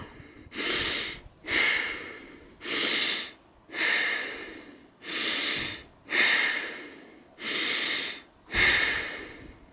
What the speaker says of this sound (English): Let's try and breathe.